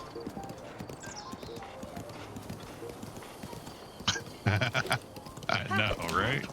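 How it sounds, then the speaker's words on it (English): A horse's hooves clip-clop in the Zelda: Breath of the Wild video game, a steady patter under game sounds and a person talking, with louder bursts toward the end. "I'm not just on a horse, I'm on Epona."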